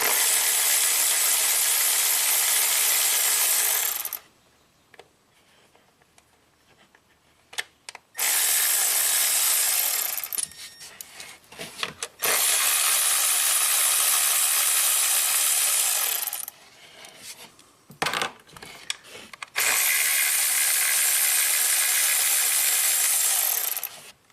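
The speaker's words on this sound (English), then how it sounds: "I want to take off all of the bolts that hold the ignition coils down." A ratchet wrench loosens the ignition coil bolts on a Ford Transit Connect engine, rapid loud clicking in long bursts separated by quieter pauses with brief handling noises.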